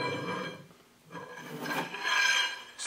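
Metal differential case on an Early Ford banjo axle being slid down a lubricated shaft, a close, soft scraping rub in a few short strokes.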